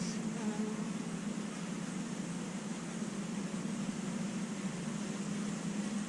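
Honeybees drone around an opened hive box during an inspection, a dense, continuous buzz close by that holds steady with no talk over it.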